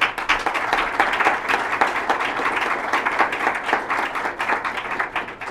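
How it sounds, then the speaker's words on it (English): At a company plenary session, an audience applauds the standing executive team with lively, crisp clapping and distinct individual claps, loud and close, running steadily for several seconds. "Please give them a round of applause"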